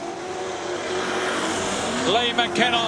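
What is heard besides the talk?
dirt track race cars going round the hairpin corner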